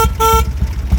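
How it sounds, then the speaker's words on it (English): A 1987 Harley-Davidson FXRP sounds its horn in two quick, loud honks, the second longer, over the low rumble of the idling engine. "Horn works."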